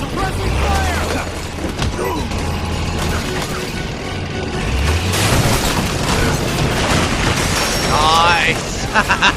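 Suppressing gunfire in the Metal Gear Solid 4 video game: sustained, dense bursts of shots and booming impacts mixed with other game sounds, under speech and synthetic tones.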